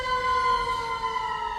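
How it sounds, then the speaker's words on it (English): A police car siren holds a steady high wailing tone, loud and continuous with no voices. "I hear the siren."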